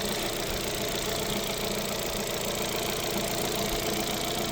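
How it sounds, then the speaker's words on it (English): Alfa Romeo Giulietta engine idling under the open bonnet, a steady, continuous mid-pitched hum with a faint rhythmic knock, close and even throughout with no talk. "I have left the vehicle running"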